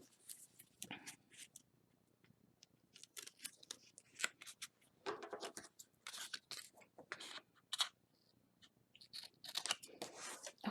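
Scissors cut through card stock for a gift bag purse, close and crisp, in irregular bursts of snips and slicing strokes with quiet pauses between them.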